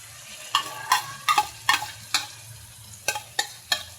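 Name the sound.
stirring and frying shrimp paste (bagoong alamang) with garlic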